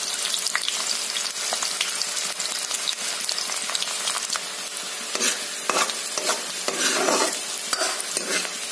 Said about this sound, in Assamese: সেই একেখন কেৰাহীতে তেল দি পিঁয়াজখিনি ৰঙচুৱাকৈ ভাজি লৈছোঁ।